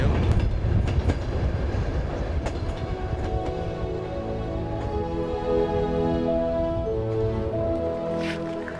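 A transcontinental passenger train rolls through Mongolia with a continuous low rumble, its wheels clicking and clacking over the rail joints and tonal hums drifting through the carriage.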